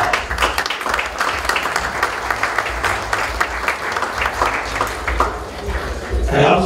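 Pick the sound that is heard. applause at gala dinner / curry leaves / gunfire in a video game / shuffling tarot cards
applause at gala dinner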